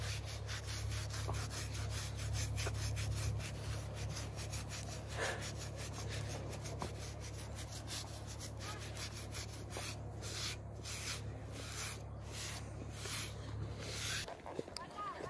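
A horse is groomed with its favourite brush in a stable before a jumping lesson, giving steady, repeated rubbing strokes up close over a constant low hum, with a few faint voices in the background.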